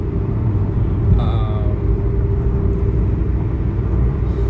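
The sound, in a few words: car driving noise heard from inside the car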